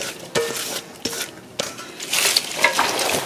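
Napa cabbage kimchi is tossed by hand in a bowl with water dropwort, onion, scallions and red chili, making wet squishing and rustling with a few sharp knocks against the bowl.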